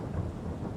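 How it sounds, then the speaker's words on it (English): Rain and distant thunder in the farming video game Farming Simulator 22, a steady low rumble with dense rain hiss, continuous and moderately quiet. "And it looks like it's starting to rain."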